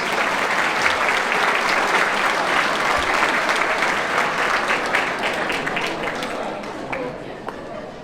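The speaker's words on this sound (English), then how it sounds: "Let's give them a round of applause, please." Loud, dense audience applause fills a celebration hall at a foundation gala, sustained clapping from a large crowd that tapers slightly toward the end.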